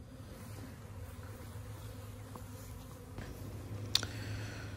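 A honeybee swarm clustered on a tree at a house buzzes faintly and steadily, a soft continuous hum with a few light clicks, no talking.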